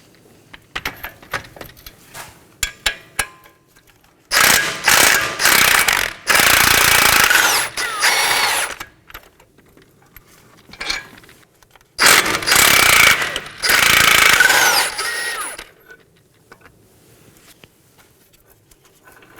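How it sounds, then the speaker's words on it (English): Impact wrench removing 21mm strut nuts on a 2015–2023 Nissan Maxima during a front strut replacement, two loud, close bursts of rapid hammering, each a few seconds long, with small clicks and clinks of tools before and between them. "I'm going to support the bolt side with a wrench and remove the nut side with my impact wrench"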